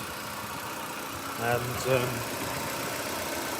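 A 2005 Nissan Micra K12 with a 1.2 16v engine idles quietly and smoothly in the background, a low steady hum under a man's speech.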